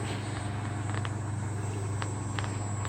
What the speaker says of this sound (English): Hear the cicadas?